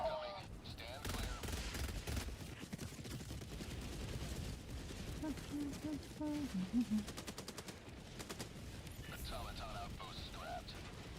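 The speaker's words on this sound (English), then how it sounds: "Orbital barrage incoming." Orbital barrage in Helldivers 2 rains down as a rapid series of distant explosions and gunfire-like bursts, with a rhythmic volley building toward the end, while a voice announces a status update over the chaos.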